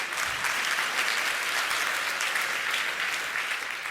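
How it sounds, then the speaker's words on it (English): Sustained applause from a conference audience fills the room, a dense, even clatter of many hands clapping at steady loudness throughout, with no voices over it. "Please give a warm round of applause to Jacob."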